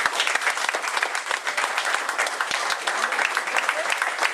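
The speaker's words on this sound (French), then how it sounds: "Vous pouvez applaudir" A crowd at a youth football tournament draw claps steadily throughout, a dense, even wash of hand claps with no pauses, fairly close and continuous.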